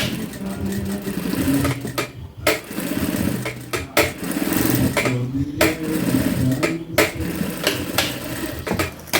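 A sewing machine stitches a seam on a small zippered pouch in short rhythmic bursts, the fast mechanical chatter starting and stopping repeatedly up close.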